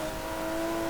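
A supercharged Jaguar V6 engine in Forza Horizon 4 holds a steady, loud, tonal drone for a brief moment, with no change in pitch.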